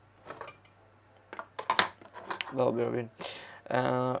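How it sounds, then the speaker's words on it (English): Scissors snip raw chicken several times in quick, uneven cuts, close by, with a voice speaking briefly in between. "I'm just gonna trim them with the scissors."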